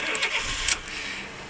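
A Fiat Punto with about 67,000 miles, in neutral, cranks briefly and fires up into a steady idle, heard close and fairly loud with no talking.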